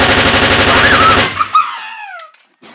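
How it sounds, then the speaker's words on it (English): A loud, rapid burst of gunfire rattles for over a second at close range, then cuts off, leaving a few sharp cracks and a descending whine fading into near silence. "I heard gunshots."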